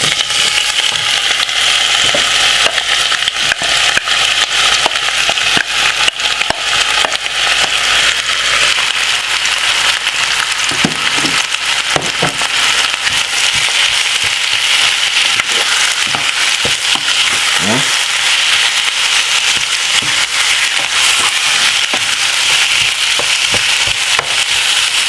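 Chicken pieces frying in a little oil in a frying pan over medium heat for Jamaican stew chicken, a loud, continuous sizzle and crackle with occasional pops and stirring scrapes, no voices.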